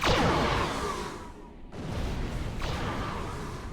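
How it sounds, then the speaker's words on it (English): Tricobalt torpedoes launched from a starship in Star Trek Online: a loud whooshing launch that sweeps down and fades, then after a brief gap a second rushing blast rises and sustains. "Give them a spread of tricobalt torpedoes."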